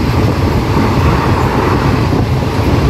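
The Akola Express rushes past at speed at night, a loud, steady, close roar of rumble and rattle that holds unbroken from start to end.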